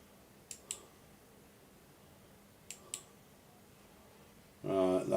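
Two pairs of sharp computer mouse clicks, close and distinct, spaced a couple of seconds apart against a quiet room, followed by a burst of louder noise at the end.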